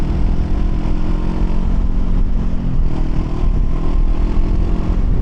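Steady low engine rumble of a Honda NX500 motorcycle underway on twisty roads, mixed with heavy wind roar, continuous and loud throughout without pauses.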